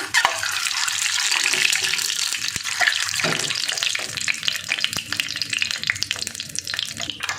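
A peeled boiled egg dropped into hot oil in a pan, crackling and sizzling loudly and continuously up close, with bursts of spattering.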